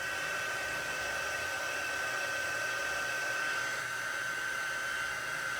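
A heat tool blows steadily while heat embossing a Christmas card, a constant even whirring hiss with no breaks.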